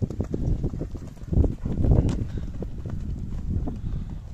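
Hooves clip-clop in a close, irregular walking rhythm as a horse moves along, with faint voices now and then in the background.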